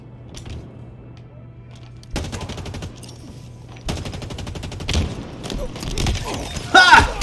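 Automatic gunfire in the Halo Infinite shooter during a multiplayer match, rapid sustained bursts of machine-gun fire starting and stopping several times, with thuds and impacts, ending in louder close shots.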